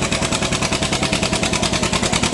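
An antique John Deere tractor with a three-point hitch and power steering runs steadily at a tractor pull. Its engine gives a loud, continuous throb with a regular pulsing beat and no voices over it.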